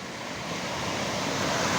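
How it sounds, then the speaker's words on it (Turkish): Sea waves at a beach roll in as a steady, broad wash of surf that swells slightly louder, mixed with wind, with no voices. "Oo geliyor büyük bir dalga"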